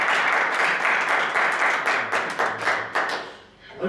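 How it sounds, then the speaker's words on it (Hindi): A congregation at a Hindi-language Christian worship service claps loudly, first as a dense burst and then settling into a steady rhythmic clap that briefly fades near the end. "तो क्यों ना हम यीशु मसीह के लिए जोरदार ताली बजाएं"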